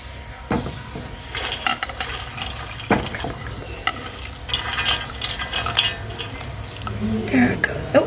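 Dry fruits drop into a pot of kheer, rice pudding, followed by close scraping and stirring with a spoon, uneven knocks against the pan over a low cooking sizzle, with a person talking intermittently.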